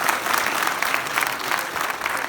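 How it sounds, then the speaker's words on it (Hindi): An audience breaks into loud, dense clapping that stays even and sustained from start to finish, with no voices standing out. "जोरदार ताली बजाओ।"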